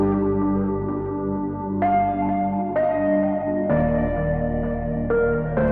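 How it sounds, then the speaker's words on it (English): A looping synth pluck riff made in Serum, with steady sustained tonal notes that step to new pitches about every second, loud, close and clean, with no voices over it. "So far I have this main little synth loop, that same pluck I used in the last video."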